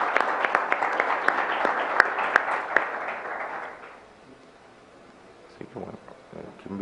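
Audience at a networking conference panel applauds the panelists, a dense burst of clapping that fades out after about four seconds, followed by brief scattered sounds and faint talk.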